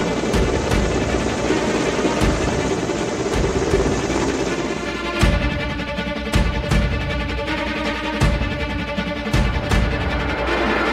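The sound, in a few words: Mi military helicopter rotor roar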